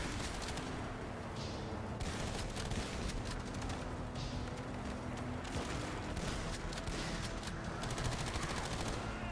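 Dense continuous gunfire in the zombie shooter Toxic Commando, overlapping automatic bursts and booms forming a loud unbroken barrage.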